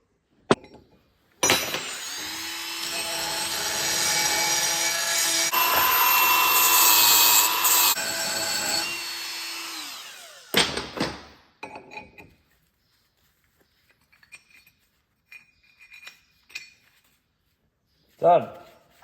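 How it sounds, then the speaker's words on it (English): A die grinder cleans out welded holes on farm machinery, giving a loud, sustained high-pitched whine for about nine seconds, then short bursts and scraping touches with quiet gaps between them. "now I'm just going to tiddle them out with a die grinder"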